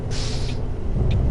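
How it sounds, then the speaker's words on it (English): A bus handbrake released in Tourist Bus Simulator, two short hissing air bursts, a longer one at the start and a brief one near the end, over a low steady engine rumble. "Get that handbrake released."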